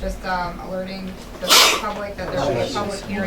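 A single loud sneeze bursts out in a county freeholder meeting while a man reads an announcement, his talk continuing before and after it.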